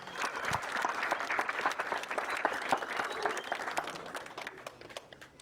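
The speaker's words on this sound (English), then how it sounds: "give yourselves a nice big round of applause" An audience at a billiards exhibition at Amsterdam Billiards applauds, with many hands clapping in a steady, moderately loud burst that fades slightly at the end.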